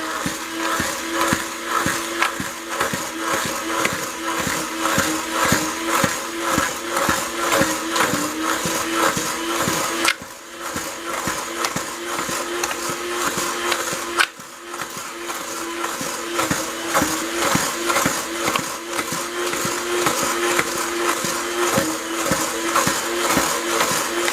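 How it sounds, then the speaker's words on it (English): Stick blender running steadily on cherry almond fluid hot process soap, a continuous motorized whir with brief dips near 10 and 14 seconds, close and loud with no talking. "start the stick blending"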